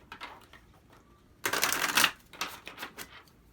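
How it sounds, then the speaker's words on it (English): Tarot cards are shuffled by hand up close, with a long dense riffle of flicking card edges, then shorter patters and taps, and no voices. "Let's give the cards a really good shuffle."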